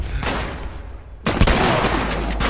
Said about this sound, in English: Oh god, I'm getting shot again.